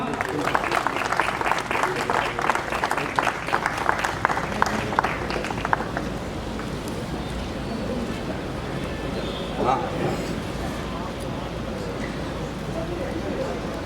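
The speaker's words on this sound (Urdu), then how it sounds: "زوردار تالیاں." At a Minority Day conference hall in Karachi, an audience breaks into dense, lively applause for about six seconds before it thins and gives way to quieter room sound with scattered voices.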